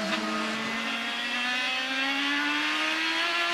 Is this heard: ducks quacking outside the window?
no